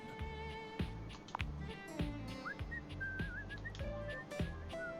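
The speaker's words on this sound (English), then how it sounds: "He's whistling when you walk up on him" A game character whistles a wandering melody in Let's Date Everything, the bright tune sliding and warbling above a steady backdrop of game music with rhythmic beats, close and clear throughout.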